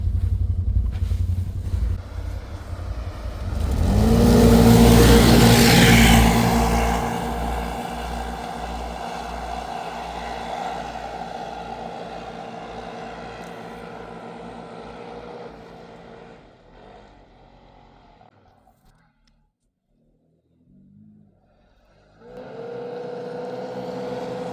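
Can-Am Outlander 1000 ATVs on Apache XC LT tracks climbing a snowy hill: engines roar up loudly, peak, then fade away into the distance, with a nearer engine rising again at the end.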